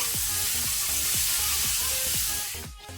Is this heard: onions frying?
yes